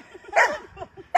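A white dog gives a short burst of barks and yips close by, two sharp bursts about a second apart.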